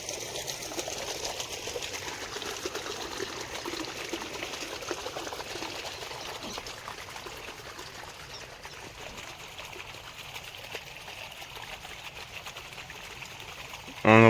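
Pumped water runs into a millet field in a steady, continuous rush and trickle, even and moderately loud for the full length, with a brief sharp noise at the very end and no clear speech.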